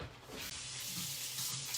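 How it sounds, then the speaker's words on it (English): Tap water runs steadily from a kitchen faucet as scallions are rinsed under it, a continuous close hiss with no talking. "And then I will rinse them off."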